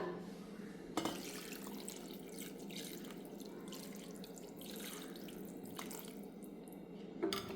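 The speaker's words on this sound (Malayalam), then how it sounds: "ഇനി നമുക്കതിലേക്ക് ആവശ്യമുള്ള വെള്ളം ഒഴിക്കാം" Water poured into a pot of village-style chicken curry with roasted ground spices, a quiet continuous splashing stream with a few louder clinks at the start and end.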